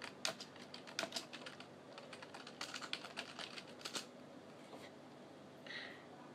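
Typing on a computer keyboard, searching for an app: irregular bursts of close key clicks fill the stretch, with a short pause near the end, and no voices.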